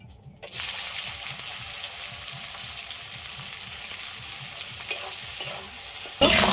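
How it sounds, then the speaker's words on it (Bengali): Chopped onion sizzles steadily in hot oil with a dried red chilli and bay leaves while a utensil scrapes and stirs in a regular rhythm, close up. "পেঁয়াজটা একটু হালকা করে ভেজে নিয়েছি"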